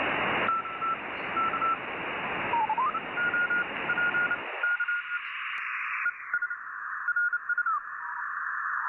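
Morse code tones come in over an amateur radio receiver as a steady series of clean beeps and dashes over background hiss, which cuts to quieter static partway through.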